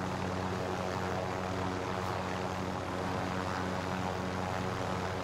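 Helicopter flying in a video game, a loud, constant whirring engine and rotor drone filling the whole stretch without break or voices.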